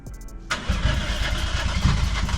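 Turbocharged BMW M52 straight-six cranking briefly, then catching and firing into a loud, rough, close idle that keeps running steadily.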